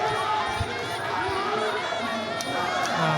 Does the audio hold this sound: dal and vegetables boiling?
no